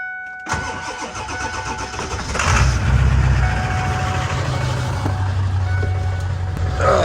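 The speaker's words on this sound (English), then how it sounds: "let's get the van cranked up, warmed up" A van engine cranks and fires up in freezing weather, then settles into a loud, steady idle close by, with a brief rise in revs near the end.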